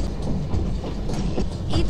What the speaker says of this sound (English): You gotta stop the train.